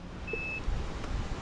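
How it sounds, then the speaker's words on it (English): A Talaria MX3 electric bike controller gives off a thin, steady electronic beep, one short tone heard faintly over low background hum, with no talking. "it beeps, and sometimes it beeps consistently"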